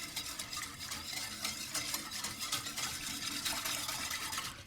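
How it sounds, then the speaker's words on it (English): Sugar and salt whisked together in a bowl, for a vanilla bean rice pudding, a continuous close swishing and scraping with fast irregular strokes, fairly quiet and heard alone. "I'm just going to whisk all of this together"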